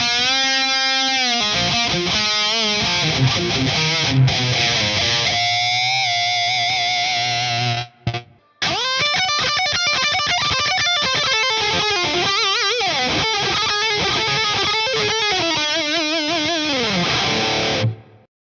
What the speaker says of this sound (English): we'll turn on the reverb and you can just hear that note decay